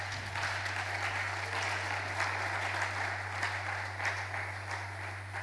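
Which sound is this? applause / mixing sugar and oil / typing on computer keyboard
applause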